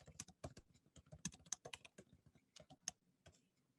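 Quick, uneven clicking of fingers typing on a computer keyboard during an office screen-sharing session, close and fairly quiet, with short bursts of keystrokes and brief pauses between them and nobody talking.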